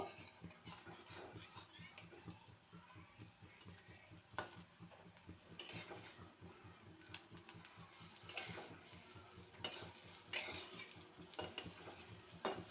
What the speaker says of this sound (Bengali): উল্টে পাল্টে লাল করে বড়াগুলোকে ভেজে নেব